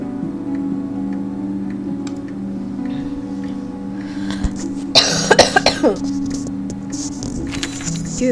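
A short burst of several close, rough coughs from one person breaks through a steady background hum and light ticking.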